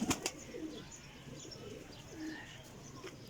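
Pigeons flying overhead give a few quick wing claps at the start, followed by soft cooing and scattered chirps, faint and distant with no voices.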